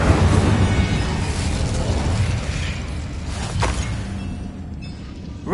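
Confringo and Incendio spells burst in Hogwarts Legacy, a continuous roaring, crackling blast of fiery explosions that stays loud throughout, with a brief sharp crack partway through.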